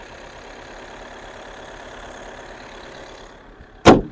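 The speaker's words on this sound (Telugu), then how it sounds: "ఇంజన్ మాత్రం చాలా సైలెంట్ అండి, ఎటువంటి స్మోక్ అని ఎటువంటి నాయిస్ ఏం లేదు" A Skoda Rapid automatic diesel car idles with a low, even engine hum that holds for several seconds, then it cuts off and a single sharp knock follows.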